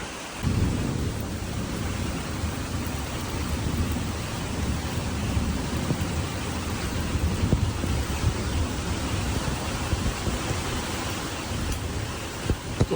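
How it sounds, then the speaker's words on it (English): Heavy rain pours steadily while low thunder rumbles through a thunderstorm on a forest trail in New Zealand, a dense, constant roar with no voices. "Thunderstorm."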